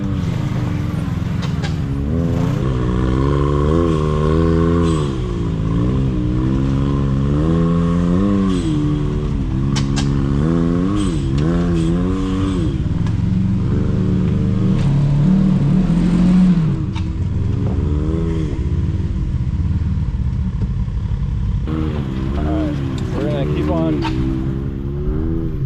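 Side-by-side off-road vehicles (a Kawasaki KRX, Honda Talon and Can-Am X3) crawl over rocks, their engines droning and revving up and down continuously and loudly. People talk over the engine noise.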